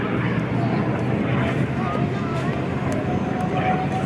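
A P-51 Mustang fighter plane flies at the First State Airshow, its engine a steady, rumbling drone that runs throughout beneath an announcer talking over a loudspeaker.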